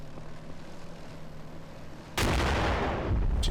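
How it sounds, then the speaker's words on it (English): In Combat Mission: Cold War, ammunition cooks off after a low rumbling drone, erupting into a sudden loud, sustained roar of explosions that keeps going, with no talking. "Just ammo blowing up."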